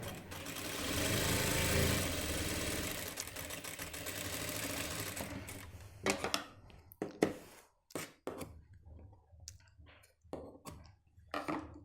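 A sewing machine stitches the back pocket of gents' trousers, running in a steady, loud continuous whir for about six seconds before stopping, followed by scattered clicks and handling noises of cloth and tools.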